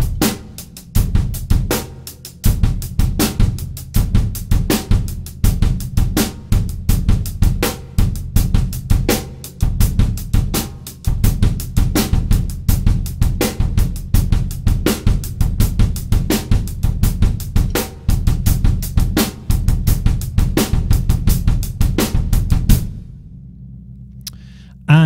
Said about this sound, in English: we are working with quite a syncopated bass drum pattern like that against an equally syncopated hi-hat pattern